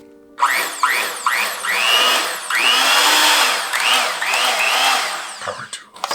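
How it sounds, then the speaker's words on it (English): An old secondhand Mixmaster electric mixer runs loudly and close by, its motor whirring with a rhythmic, cyclic wobble for several seconds before it is switched off at the end. "Make sure the Mixmaster works."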